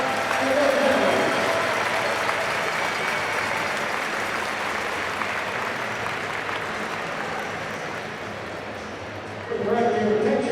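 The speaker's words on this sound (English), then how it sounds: "Give a nice round of applause for the RPI engineers and their families." Crowd applause fills an arena at a college men's hockey game between RPI and Union College, a steady wash of clapping under an announcer's amplified voice that swells again at the end.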